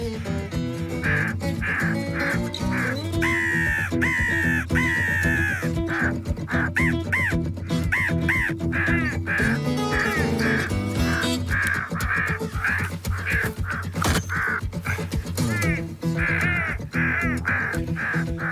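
Crows cawing during a winter crow hunt in Québec, a loud, busy chorus of harsh repeated caws from several birds, overlapping close by almost without pause.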